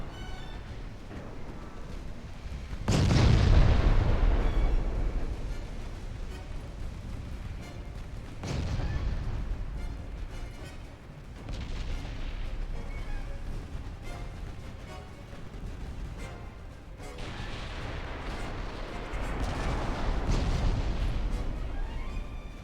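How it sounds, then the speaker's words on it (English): Seven-inch naval guns fire in a battleship video game featuring a Super Tirpitz against Japanese ships, heavy booming salvos at about three, eight and twenty seconds, each rolling into a long, rumbling tail over continuous low background noise. "Wow, look at those 7-inch guns go."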